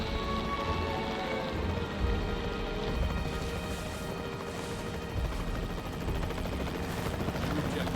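A capture team helicopter flies in the video game Jurassic World Evolution 3, giving a steady, dense rotor roar with a rain-like hiss that holds throughout.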